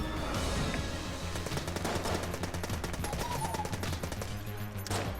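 Rapid gunfire from the twin-stick roguelike Enter the Gungeon, dense overlapping bursts of shots firing continuously and loudly over steady game music, with no talking.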